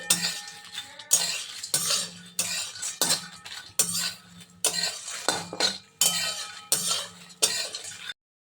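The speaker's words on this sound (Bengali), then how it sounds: "আর শুকনো লঙ্কা আর ছোটো এলাচ বড় এলাচ এগুলো এবার আবার একটু নেড়ে নিই" Dry red chillies, green cardamom and black cardamom are stirred in a pan for homemade garam masala, with a steady run of about a dozen close scraping and clinking strokes of the spoon against the metal, each followed by a short pause.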